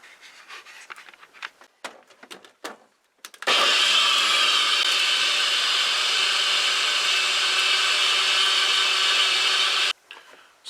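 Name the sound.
blender blending a tropical fruit smoothie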